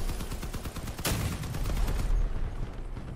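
A cannon firing in the vehicle combat game Crossout during a multiplayer match, with one sharp blast standing out over an ongoing rattle of rapid gunfire, loud and close.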